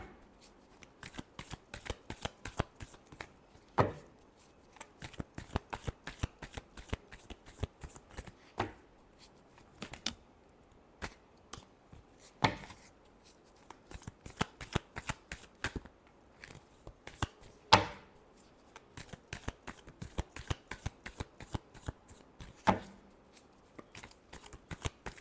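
Tarot cards being shuffled by hand in a steady run of crisp riffling flicks, with occasional louder snaps, close and alone, no voices.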